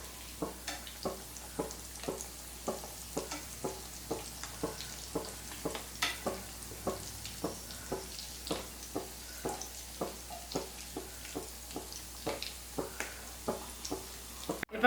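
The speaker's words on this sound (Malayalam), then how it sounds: "തിരിച്ചും മറിച്ചിട്ടിട്ട് നമുക്ക് നന്നായിട്ട് ഫ്രൈ ചെയ്തെടുക്കാം." Cutlets frying in a pan, a soft steady sizzle punctuated by regular ticking pops and scrapes about twice a second, close and fairly quiet, with no talk.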